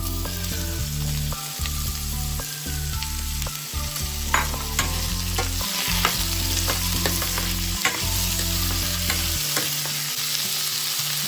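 Jackfruit and green chillies sautéing in a pan for jackfruit poriyal, a dense continuous sizzle with repeated stirring and scraping of a spatula, steady and close throughout.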